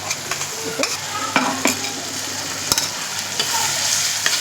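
Ginger-garlic paste and spice mixture sizzle loudly in a hot pan, a close hiss broken by spatula scrapes and stirring knocks, with no one talking.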